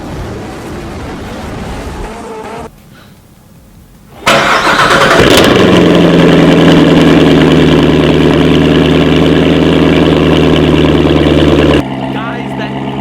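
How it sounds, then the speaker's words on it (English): Chevrolet Corvette C7 with a Corsa Extreme exhaust cold-starting: a brief crank, then a loud roar that settles into a rumbling high idle, close up, with talking before the start and after it. "You want to hear that Corsa Extreme cold"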